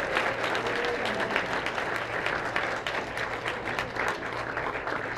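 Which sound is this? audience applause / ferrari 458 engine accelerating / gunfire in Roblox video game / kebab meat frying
audience applause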